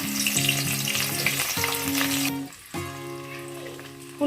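Cauliflower pieces sizzle and crackle loudly in hot oil for a mixed vegetable pickle, a steady frying hiss with a brief dip partway through before the sizzle resumes.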